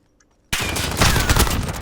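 Sudden heavy burst of rapid automatic gunfire from a competitive shooter video game match during a bomb plant round, erupting after half a second of near silence and continuing loud and dense to the end.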